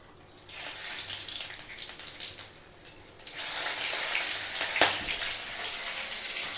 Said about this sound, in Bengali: ফোড়নে আমি তেজপাতা শুকনো লঙ্কা গোটা গরম মশলা জিরে দিয়ে দেবো